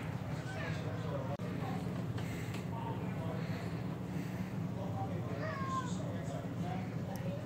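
A cat gives several drawn-out meows at intervals, fairly close, with a voice talking at times over the calls.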